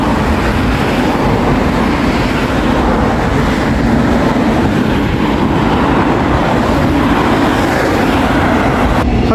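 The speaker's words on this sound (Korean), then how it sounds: "기차 또 지나간다." A train rolls past near the Gupo Bridge area of Busan, a steady loud broadband rumble and rail roar filling the whole stretch without a clear approach or fade, heard with no talking.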